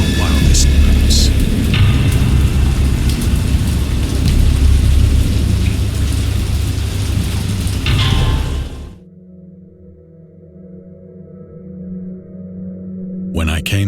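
Heavy rain pours loudly with rolling thunder, then abruptly drops away to a quieter low ambience before a brief burst returns at the end.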